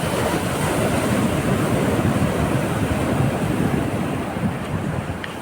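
Steady roar of sea waves washing in, broad and continuous, with wind noise buffeting the microphone throughout.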